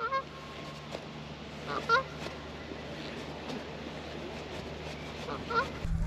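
Geese honk repeatedly at a distance, agitated calls scattered over a steady background hum, at a pike fishing spot on the opening day of pike season.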